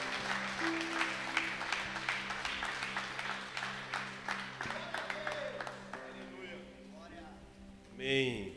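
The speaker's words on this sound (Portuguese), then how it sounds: "Você pode aplaudir o Senhor pela vida dele?" A church congregation applauds during a men's service, a sustained patter of clapping over held musical tones, fading out as a voice rises at the end.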